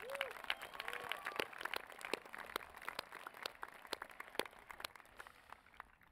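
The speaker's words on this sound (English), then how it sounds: "Can we get a round of applause, please?" A crowd applauds graduates in caps and gowns at a high school graduation ceremony, steady, faint clapping from a large audience, with sharper individual claps standing out and a brief voice near the start.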